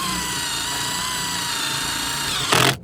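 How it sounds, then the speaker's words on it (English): A power drill whines at a steady high pitch as it bores a cooling hole through a mini RC car's metal heat sink, then grinds harder and louder just before stopping. "He just drilled a cooling hole."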